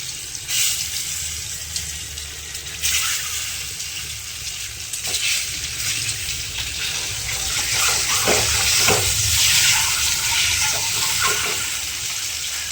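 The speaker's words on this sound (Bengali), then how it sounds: "ডিমগুলো খুব ভাজবো না, হালকা ভাজবো।" Eggs fry lightly in a pan, added one at a time after salt. A continuous loud hiss and sizzle is heard up close, with occasional stirring scrapes and no speech.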